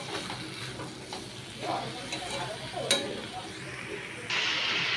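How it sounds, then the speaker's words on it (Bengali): Potato and pointed gourd sautéed with spices in a pan, a steady sizzle with scraping stir strokes and a sharp clink near the middle, louder toward the end, with a voice speaking at times. "মশলাটার সাথে আলু পটল কষিয়ে নিয়েছি।"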